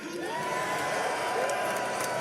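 Gaimin Gladiators fans at a Dota 2 grand final at The International, a large crowd roaring and whooping in a sustained wash of cheering with a voice rising over it.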